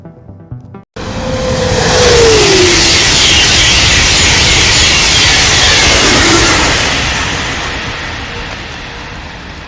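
ETR 500 Frecciarossa high-speed train rushing past, a sudden loud roaring whoosh that swells, holds for several seconds, then slowly fades.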